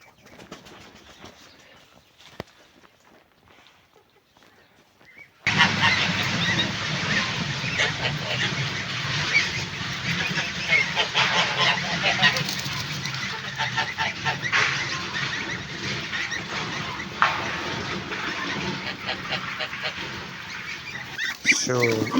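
Ducks sit close by, first quiet, then breaking into loud, continuous quacking and flapping that carries on to the end, with a person's voice mixed in now and then.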